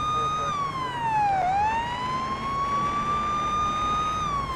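Police car siren in the Police Simulator: Patrol Officers video game, a loud, close wailing tone that dips and rises in a slow sweep over a constant engine and traffic bed.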